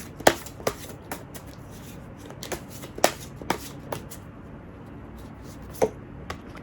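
Tarot cards shuffled and drawn by hand, giving a series of sharp, close papery snaps and flicks at an irregular rhythm over a quiet background, with no talking.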